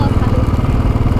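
A motorcycle engine running on a ride, loud and close, with a steady, throbbing low drone from start to finish.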